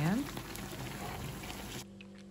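Pirozhki made from yeast dough fry in a pan on a gas stove at medium heat, giving a faint, steady sizzle under a voice until the sound drops away near the end.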